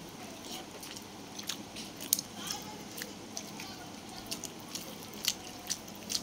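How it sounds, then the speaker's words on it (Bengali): Soft crunching and chewing while eating rice with dal, intermittent close-up bites and mouth sounds over a quiet room background. "এবার ডাল দিয়ে খাবো"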